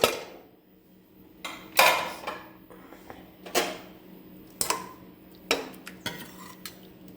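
A pressure cooker of spinach and lentil curry being opened after its pressure is released, with a few sharp metallic clanks and lid knocks spaced apart, close and moderately loud in a quiet kitchen.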